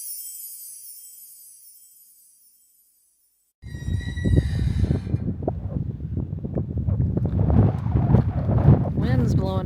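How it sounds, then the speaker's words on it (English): Wind blows outdoors in Oklahoma, buffeting the microphone with a low, rough rumble after a short quiet gap, while a person talks over it. "Wind's blowing out here in Oklahoma."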